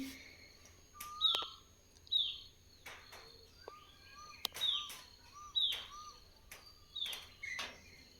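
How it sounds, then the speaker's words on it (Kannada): Birds chirp outdoors in the morning, short clear calls and whistles arriving every second or so against a quiet background, some near and some farther off. "ಮತ್ತು ಆಚೆ ಬಂದಾಗ ಪಕ್ಷಿಗಳು ಚಿಲಿಪಿಲಿ ಅದು ಕೇಳೋಕ್ಕೆ ತುಂಬ ಚೆನ್ನಾಗಿರುತ್ತೆ"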